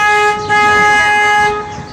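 A person's voice imitates a ship's horn honking beside a big ship-shaped building on the San Antonio River Walk: a loud, steady, buzzing horn-like tone held for nearly two seconds with a short dip partway through.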